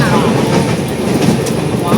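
Continuous rumble and clatter of a train rolling along the rails, heard up close from inside on a Bangalore to Kolkata journey, with a steady, unbroken drone.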